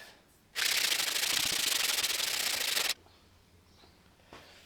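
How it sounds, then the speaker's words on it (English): A rough wood edge is sanded by hand in one loud, continuous rasping stroke lasting about two seconds, with quiet before and after. "so I'm just going to hand sand that"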